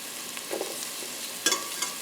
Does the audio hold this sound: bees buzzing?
no